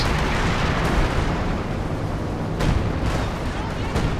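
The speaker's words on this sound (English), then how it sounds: "Indirect fire coming down as well." Indirect artillery shells landing in Company of Heroes 2, heavy explosions rumbling continuously with sharper blasts standing out near the end, dense and loud throughout.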